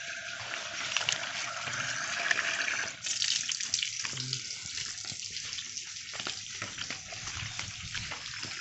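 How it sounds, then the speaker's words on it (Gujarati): Tap water pours steadily into a bucket at a village home, a broad rushing splash that drops off sharply about a third of the way through, then continues as a softer trickle with faint voices. "અત્યારે આપણે પાણી આવી રહ્યું છે, તો ભરેલી જ છે ડોલ ડબ્બુ"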